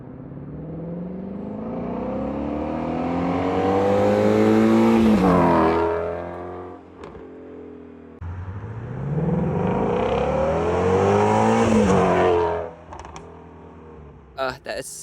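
Two cars rev hard and zoom past one after another on a West Hollywood street, each engine building to a loud close roar and dropping in pitch as it goes by, with voices faintly underneath.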